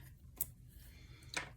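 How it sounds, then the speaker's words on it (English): Scissors cut through washi tape with two quick, crisp snips, close and quiet, roughly a second apart. "Then I'll take my scissors and I'll cut that off."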